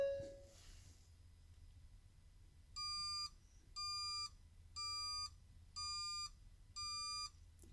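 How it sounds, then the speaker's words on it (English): Ford Transit van dashboard chime sounding five evenly spaced electronic beeps to signal zero keys programmed during key programming, clear and steady against a quiet low hum. "it will give us 5 beeps, which is to indicate there's 0 keys programmed"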